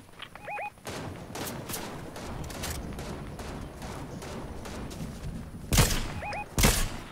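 Fortnite gunfire crackling in the distance, a long run of rapid shots and thuds, with two louder, closer bursts near the end and short electronic tones at the start and later on.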